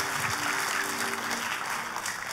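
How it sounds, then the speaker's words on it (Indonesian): A church congregation applauds enthusiastically during a sermon, a steady wash of many clapping hands with a faint sustained tone beneath. "Tepuk tangan yang paling meriah buat Tuhan kita"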